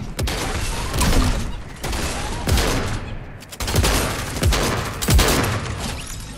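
Video-game gunfire in a battle-royale match, sharp shots and bursts repeating irregularly over several seconds, fairly loud against a busy game backdrop.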